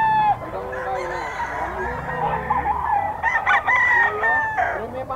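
Young gamecock stag crowing at a poultry sale, loud close crows repeating through the clip with clucks and other fowl calls around it and some faint talking.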